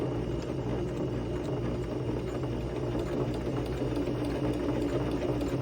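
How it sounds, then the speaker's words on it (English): A sewing machine stitches steadily with the presser foot lowered, a constant close mechanical whir with fine rapid ticking, heard alone. "I've got my presser foot lowered, and I'm going to press my machine and start to sew."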